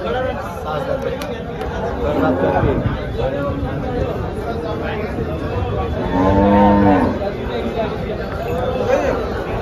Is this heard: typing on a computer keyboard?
no